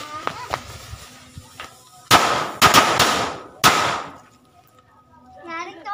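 Five Indonesian mercon firecrackers go off together: a quick cluster of four or five sharp, loud cracks with crackling tails, after a few light ticks of ignition, then quiet and a brief voice at the end.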